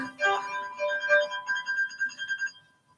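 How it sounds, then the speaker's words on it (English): A musical sonification of the TRAPPIST-1 exoplanet system plays as clear, bell-like synthesized tones in overlapping repeating pulses, fairly close and moderately loud, fading out near the end with no voices over it. "So that was the sound of the sonifications of the TRAPPIST-1 exoplanet system."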